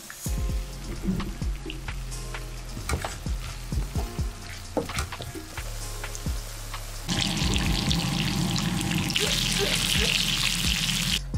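Food frying in a hot pan sizzles steadily with scattered crackles and light clatter, then swells into a louder, denser hiss for the last few seconds.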